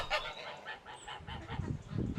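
Several geese honk in a noisy flock, calls overlapping and repeating throughout, with no talking.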